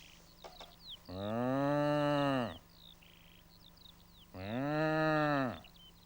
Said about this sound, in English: You get a lot of cows in fields in the summer